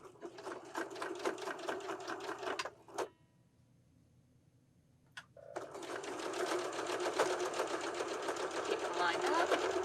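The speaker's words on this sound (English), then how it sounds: "we're lining up this edge with our pillow edge, and we start stitching it on." A sewing machine stitching piping onto a pillow edge, fast close rhythmic whirring that stops for about two seconds, then resumes steadily to the end.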